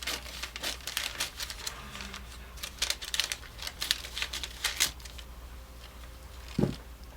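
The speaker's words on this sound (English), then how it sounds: "Let's cut that open." Scissors snip and crinkle through fabric for a bespoke valance, a quick run of close, crisp cutting clicks that tapers off, ending with a soft thump.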